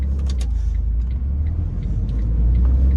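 Road traffic rolls past on a street in Valdosta, Georgia, a steady close low rumble of car and heavy vehicle engines, with faint brake hiss and no voices.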